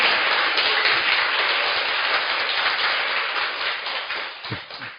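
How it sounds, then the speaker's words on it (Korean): Sustained applause from a studio audience on a Korean political talk show, a dense hiss of many hands that holds steady and slowly tapers toward the end, with a couple of low thumps near the close. "이야, 박수."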